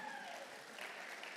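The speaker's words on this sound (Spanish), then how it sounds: "denle un aplauso a Sam." An audience applauds for Sam at a Spanish-language church talk, steady clapping filling the room for a brief moment with no voices over it.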